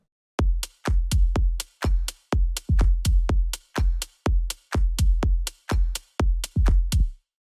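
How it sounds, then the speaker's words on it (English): A layered clap sample, stacking a room clap, a sharp transient clap and a hand clap, snaps out as roughly twenty quick, evenly spaced hits in a melodic house groove, loud and dry with some low body, with no talking. "The claps sound like this."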